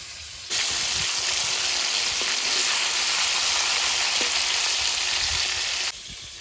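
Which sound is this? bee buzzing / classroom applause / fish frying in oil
fish frying in oil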